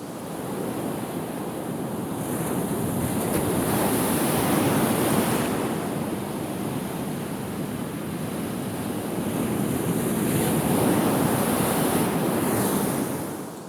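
Ocean surf on a beach during perch surf fishing, steady broadband roar with two swelling wave surges around the middle and near the end, close and loud with some wind buffeting, no voices.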